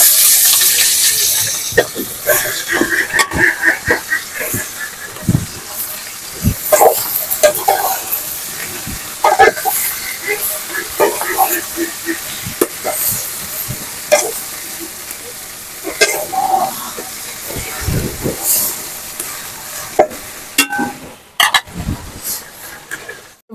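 Leafy greens sizzling in hot oil in a pan, close and fairly loud, with frequent irregular scraping and clattering of the stirring spoon over a continuous frying hiss.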